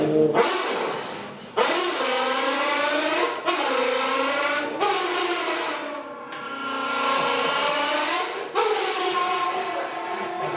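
A human voice imitating a Lamborghini engine on a stand-up comedy stage, with sustained revving drones that swell and drop in several long surges, each broken by a short pause.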